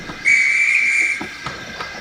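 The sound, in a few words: guard blowing a railway whistle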